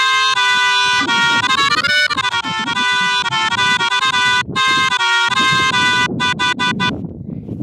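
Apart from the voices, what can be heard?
horn sample in FL Studio Mobile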